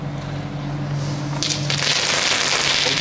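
Small rotjes firecrackers from Aldi fireworks set off outdoors, a loud crackling burst breaking out partway through and continuing as sharp, rough popping to the end.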